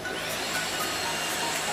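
LG CordZero cordless vacuum cleaner running at its lowest setting, a steady high-pitched whine and airy rush, loud and close, continuous with no talk.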